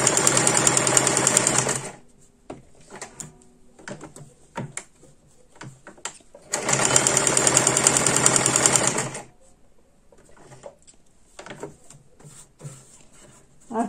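A sewing machine stitches the edges of patchwork pieces in two loud, steady bursts of about two seconds each, with quieter handling clicks and rustles between the runs.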